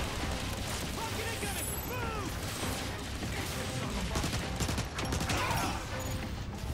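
Weapon fire in the video game Transformers: War for Cybertron crackles amid dense game effects and whistling energy sounds, with bursts of shots over a constant busy background.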